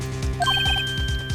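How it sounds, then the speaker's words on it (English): Phone ringtone in the Phoenix Wright: Ace Attorney video game, a loud, close electronic ring with a short chirping melody over a rhythmic low pulse, heard alone. "I had a phone ring just now."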